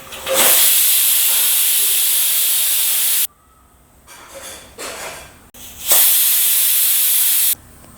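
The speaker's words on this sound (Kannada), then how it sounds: "2 ವಿಸಿಲ್ ಬಂದಿದೆ. ಈಗ ಕುಕ್ಕರ್ ಸ್ವಲ್ಪ ತಣ್ಣಗಾಗಕ್ಕೆ ಬಿಡೋಣ." A pressure cooker of tomato rice vents steam in two loud, hissing whistle bursts, each lasting a few seconds, separated by a quieter gap with faint kitchen sounds.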